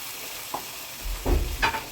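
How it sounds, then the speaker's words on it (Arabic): Chicken kabsa is stirred in a large pot over a steady hiss of frying, with a couple of close, dull scraping thumps from the spoon toward the end. "اقلبها كده تقليبه حلوه"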